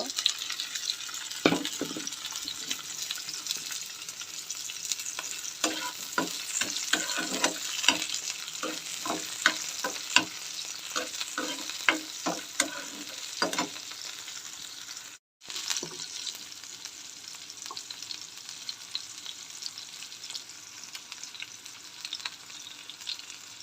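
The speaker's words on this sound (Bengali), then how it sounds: "তো এখন আমি দিয়ে দিব চিংড়ি মাছগুলো একটু তেলের উপরে ভেজে নেব" Prawns fry in hot oil with a dense, crackling sizzle, spattered with frequent sharp pops and stirring clicks during the first half, then a smoother continuous hiss after a brief dropout.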